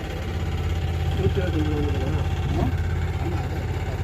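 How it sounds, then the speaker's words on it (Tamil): Low steady drone of a boat engine out on the water in the distance, a continuous mid-low hum with wind noise and occasional faint voices over it. "போட்டெல்லாம் தூரத்தில் ஒரு போட்டு வந்துக்கிட்டு இருக்கு."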